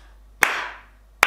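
Two sharp, close hand claps about a second apart, each ringing briefly in a quiet room.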